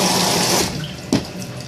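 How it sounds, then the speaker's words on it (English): Cold tap water pours into a blender holding beans, a loud, close rushing stream that tapers off, followed by a brief splash or knock. "I fill it up with cold water."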